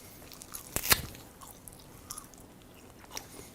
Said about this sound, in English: I could sit here and chew on this bone for a good 15-20 minutes